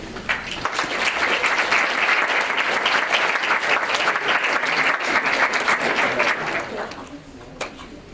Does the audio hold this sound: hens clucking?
no